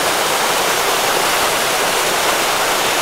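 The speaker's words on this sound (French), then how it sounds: "Donc là, c'est la 3e cascade." The third waterfall of the Seven Cascades hike in Mauritius roars in a steady, loud, broadband wash of falling water, close and unbroken throughout with no voices over it.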